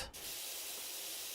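A pressure washer sprays continuously in the video game PowerWash Simulator, a steady bright hiss that starts after a brief gap and holds evenly, fairly faint.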